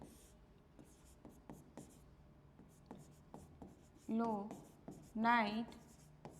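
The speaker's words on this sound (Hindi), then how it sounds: "वापस मैं लिख रही हूँ" Writing on a board during a soil chemistry lesson makes soft, close taps and short strokes in an irregular rhythm, while someone speaks between and over them.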